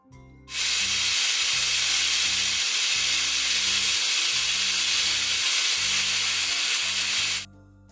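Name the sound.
pressure cooker whistling while cooking chickpeas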